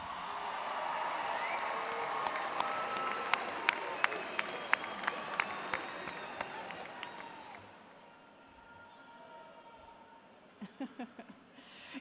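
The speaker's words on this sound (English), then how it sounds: "give them a large round of applause" Graduates and families in an arena at a high school graduation give a broad round of applause, distant crowd clapping with scattered sharp claps standing out, tapering off into quieter room noise with a few faint knocks.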